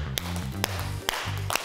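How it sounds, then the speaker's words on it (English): Children clap hands during an early years exercise class, four crisp single claps spaced roughly half a second apart over a steady backing music track, with no voices. "Into the middle and clap"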